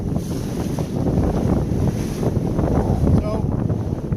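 Strong wind roars across the microphone aboard an O'Day 272 sailboat off the Pacific coast, a steady heavy rumble mixed with rushing water and waves, loud and continuous with no break.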